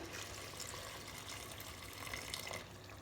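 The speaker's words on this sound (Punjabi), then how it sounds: "ਬਿਲਕੁਲ ਥੋੜਾ ਜਿਹਾ ਪਾਣੀ ਪਾਣਾ ਹੈ" A little water poured into masala in a pressure cooker for mutton curry, a steady gentle pouring and trickling stream that eases off near the end.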